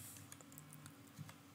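Quiet keystrokes on a computer keyboard while C code is entered, a short burst of light scattered taps, close and soft with no talking.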